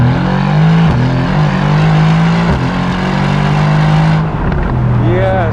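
Mercedes-AMG GT R Roadster exhaust revving loudly and close, a steady deep drone rising in pitch through a couple of blips with crackles, then dropping off as revs fall near the end.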